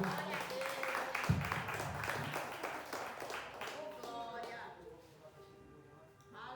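A church congregation claps for the pastor, with brisk clapping at the start under voices that carry on over it. The clapping thins out and fades toward the end.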